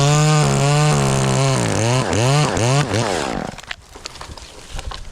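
A chainsaw runs close by during dead tree removal, a loud steady whine that rises and falls through several quick throttle blips before cutting off into outdoor background noise.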